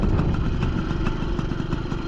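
A Bultaco 155 classic motorcycle engine is heard steadily while being ridden on an outdoor route. The mid-pitched motor chugs continuously and fairly loud, with no voices.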